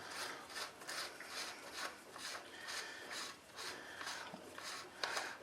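The axle nut on a 2009 Kawasaki KLR650 motorcycle's rear wheel is spun loose by hand, giving a quick run of raspy, rhythmic scraping strokes, close and fairly quiet, with no talking.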